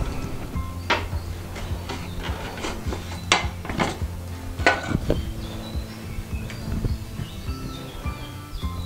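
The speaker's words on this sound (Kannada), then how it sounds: "ನೋಡಿ, ಇವಾಗ ಹಲಸಿನಕಾಯಿ ಬೆಂದಿದೆಯಾ ಅಂತ ಚೆಕ್ ಮಾಡೋಣ." A utensil scrapes and taps against a pot of cooked tender jackfruit, giving a string of light clinks and rubbing scrapes, close and quiet, with no voices.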